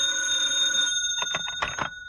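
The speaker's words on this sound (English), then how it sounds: "when the phone rang" A telephone bell rings in an old-time radio detective drama, Yours Truly, Johnny Dollar, first as one long steady ring, then after a short pause as a quicker burst of several shorter rings, clear and alone.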